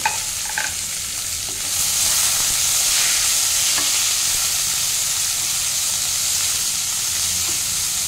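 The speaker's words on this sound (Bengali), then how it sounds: "এবার আমি আদা বাটা আর বাঁধাকপিটা একসাথে দিয়ে দিচ্ছি, একসাথে কষানো হবে।" Cabbage and ginger paste sizzle loudly in hot oil as they are stir-fried, a dense continuous hiss with occasional faint scrapes of stirring, close up and without talk.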